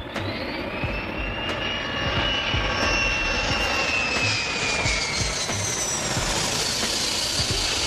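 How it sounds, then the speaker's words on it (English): A large firefighting air tanker, a Lockheed fixed-wing aircraft that carries fire retardant, flies overhead with a steady, loud engine roar. A rising and falling whine runs through the full length of the pass. "Here comes your air tanker."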